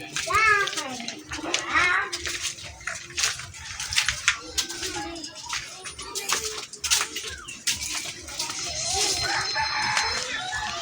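Hybrid chickens of a good breed clucking and calling around a backyard coop, with a rooster crow and a cat-like mew mixed in, under steady talk from several people including a child.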